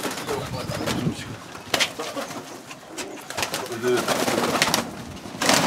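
An old pigeon coos softly amid rustling and scattered clatter in a village pigeon loft, while people talk nearby over it.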